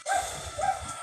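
Dogs barking in the distance, a short burst of muffled yaps and woofs over a low rumbling background, faint and indistinct.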